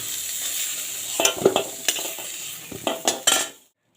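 Young jackfruit pieces frying in hot oil, a soft sizzle broken by several clinks and scrapes of a utensil stirring the pan, then sudden quiet.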